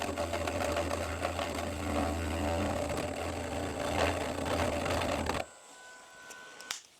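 A Dremel 8260 rotary tool carves at its lowest speed, producing a close, steady buzzing whine with a low hum for about five seconds before cutting off abruptly, followed by faint handling clicks.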